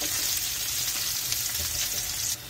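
Dried chillies sizzle as spices are tempered in hot oil with garlic, a steady crackling hiss close by that cuts off abruptly near the end.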